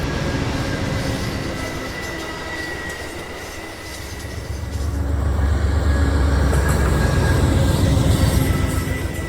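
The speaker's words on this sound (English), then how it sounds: "A northbound Amtrak Northeast Regional train approaches the Potomac River" A northbound Amtrak Northeast Regional passenger train rumbles past on the tracks approaching the Potomac River, a steady low roar that grows louder and heavier midway, with rhythmic rail clatter and no voices.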